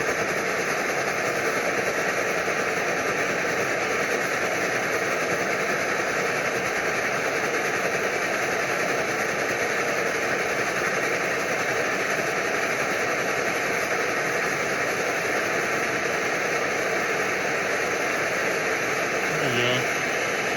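Primus Omnifuel camping stove burning liquid fuel, a steady loud roaring hiss that holds evenly throughout without pause.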